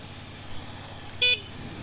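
A CFMOTO 450SR motorcycle horn gives one short, fairly loud toot over a quiet low engine and road background, no speech.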